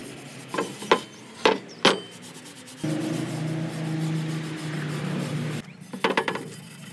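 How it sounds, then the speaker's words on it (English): A beat-up Harley exhaust pipe is sanded by hand. A few sharp scrapes come first, then a sustained close rasping rub for several seconds, then more short strokes. "you don't want to see me sand this pipe for 30 minutes"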